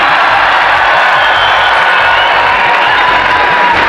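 A large auditorium crowd cheers and roars for Prime Minister Modi, a dense, loud, continuous wash of voices and whoops sustained throughout with no single speaker standing out.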